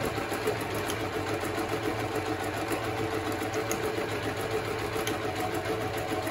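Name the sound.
Privileg Super Nutzstich 5010 sewing machine stitching in reverse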